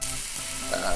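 A glowing 1000-degree knife sizzles through a watermelon, a brief steady frying hiss, loud and close, with no voices.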